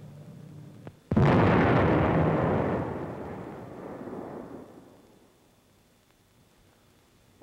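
An enemy aircraft's bomb bursts near a tank in open terrain: a sudden, loud explosion erupts after a brief quiet, then a long rumbling roar slowly fades over several seconds.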